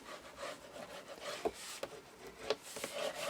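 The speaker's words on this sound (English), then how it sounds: "once you've got it in place, burnish it down" Paper is burnished down onto a handmade double folio album, giving faint, steady rubbing strokes with a few small taps.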